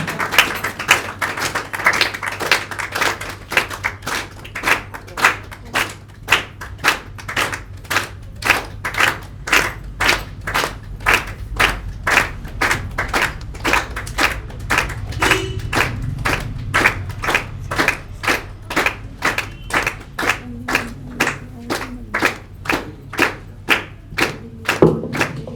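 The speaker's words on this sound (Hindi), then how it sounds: "तालियां बजती रही।" An audience at a Diwali celebration claps in a steady rhythm, close and loud, a long run of sharp evenly spaced claps that continues without pause.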